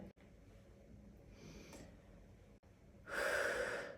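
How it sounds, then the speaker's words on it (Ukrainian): A deep breath drawn in through the nose and then let out, soft and close, ending in a louder, brighter exhale; no talking. "зробити глибокий вдих через ніс і видих"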